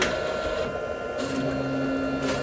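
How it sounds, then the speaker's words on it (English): A Procolored K13 Lite DTF printer runs a printhead cleaning cycle, giving a steady mechanical hum and whir with shifting motor tones throughout. "The printer will run a printhead cleaning after the automatical ink guide."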